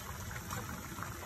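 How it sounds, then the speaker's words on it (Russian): Water pours into a soup pot over potatoes, tomatoes, garlic and hot pepper for goulash soup, producing a steady, close rushing trickle that runs unbroken and without talk. "Острый перец и заливаем водой"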